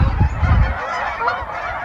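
Wild geese honk loudly nearby in autumn, a dense overlapping chorus of calls that is strongest at first and then thins slightly, with no talk over it.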